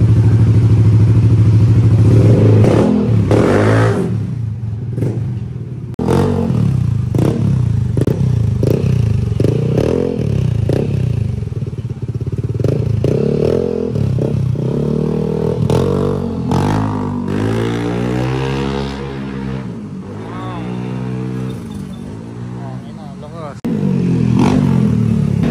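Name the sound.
Yamaha Aerox V2 scooter engine revving, test after HIRC pulley set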